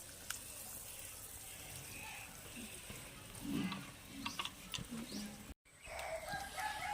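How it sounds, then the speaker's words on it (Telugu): Coconut burelu, sweet dumplings dipped in batter, frying in hot oil, a faint steady sizzle and bubbling heard from close by, with a rooster crowing in the background. "నూనె కవర్ మీద చేసి నూనెలో వేసుకుంటున్నాం."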